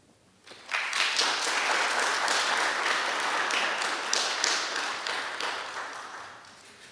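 Audience applause breaks out after a poem reading at a writers' symposium keynote, a dense, steady wash of many hands clapping that starts abruptly, holds for several seconds and slowly thins toward the end, with no talking over it.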